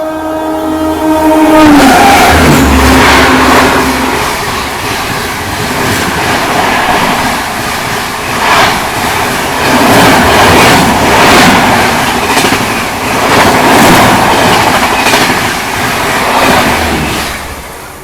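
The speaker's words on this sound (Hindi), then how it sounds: "ये आ गई बांद्रा गरीब रथ एक्सप्रेस फ्लैट 130 पे।" The Bandra Garib Rath Express passes at 130 km/h with a loud horn blast at the start, then a sustained roar of rushing coaches and rhythmic clickety-clack of wheels over rail joints, heard close for the whole stretch.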